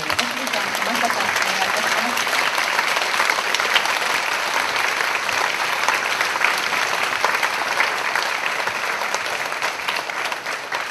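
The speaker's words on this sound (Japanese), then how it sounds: "皆さん拍手でお迎えください" Audience applause welcoming two guests onto the stage at a post-screening talk event, a steady, dense burst of clapping from a seated crowd lasting throughout, loud and even with no break.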